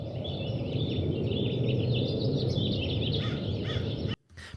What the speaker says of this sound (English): it is just a nice little whoosh sound and some morning birds